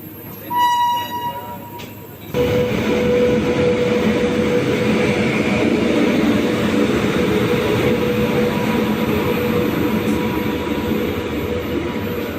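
The Nellai Superfast Express horn blares briefly on the Tirunelveli to Chennai Egmore route, then the heavy, steady rumble of the train rolling along the tracks fills the rest, loud and close.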